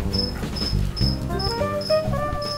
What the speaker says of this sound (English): Cricket's going nuts.